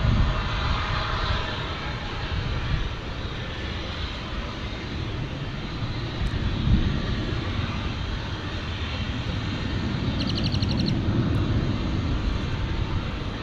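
A Japan Airlines Boeing 777-300 jet at Dallas Fort Worth Airport gives a loud, continuous broadband engine roar, steady throughout and slightly swelling toward the end, with no talk.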